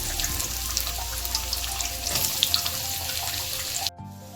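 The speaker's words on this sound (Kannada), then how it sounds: "ಸೊ ಇಲ್ಲಿ ಗೀ ಹೀಟ್ ಆಗಾದ್ಮೇಲೆ ನಾವಿಲ್ಲಿ ಮುಲ್ಲಂಗಿ ಹಾಕ್ಕೊಂಡು ಫ್ರೈ ಮಾಡ್ಕೋಬೇಕು ಚೆನ್ನಾಗಿ." Grated radish fries in hot ghee with a steady, close sizzle and scattered crackling pops. The sizzle cuts off abruptly near the end.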